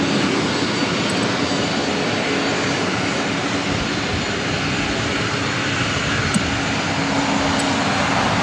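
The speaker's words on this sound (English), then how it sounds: "This is Southwest Airlines 4838 taking off to San Jose, California on a 737-800" Southwest Airlines Boeing 737-800 jet taking off from LAX for San Jose, a steady, loud broadband engine roar that holds evenly for the whole stretch, close by and with no voices over it.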